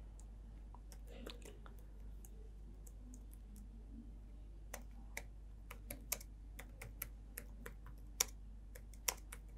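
Someone types C program code on a computer keyboard, with sparse, faint key clicks that come in small bursts and grow a little more frequent toward the end, over a steady low hum.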